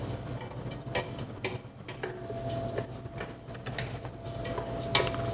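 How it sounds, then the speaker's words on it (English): Rice toasting in a pot gets a quick stir, with a spoon scraping and clinking against the pot over a steady low sizzle, several short strokes in close succession. "Saute that up a little bit. Yeah, I'll give it a quick stir."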